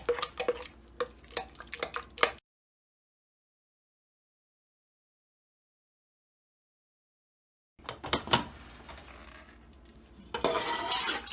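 A spoon scrapes and clinks against a metal pot of chana dal gosht in quick repeated strokes, close up, with a long silent gap between two bursts of stirring.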